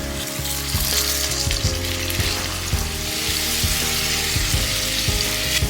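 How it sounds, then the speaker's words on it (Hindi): Marinated chicken frying over a high flame with golden-brown onions for a Mughlai chicken handi curry, a loud, dense, continuous sizzle close up, with repeated thuds and scrapes of stirring throughout and no voices. "डालेंगे मैरिनेटेड चिकन और चिकन को हाई फ्लेम पर कलर बदलने तक भून लेंगे"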